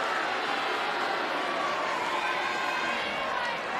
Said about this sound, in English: Well, the crowd are really getting into it.